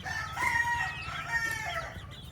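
Kelso gamefowl roosters crow on a farm, overlapping calls from more than one bird at moderate distance over faint background noise, with no talking.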